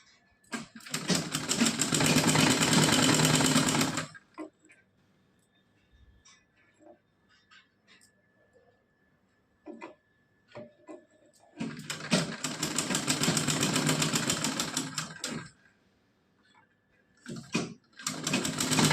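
A sewing machine stitches a small doll dress in two loud, sustained whirring runs of about four seconds each, separated by quieter gaps filled with faint handling clicks.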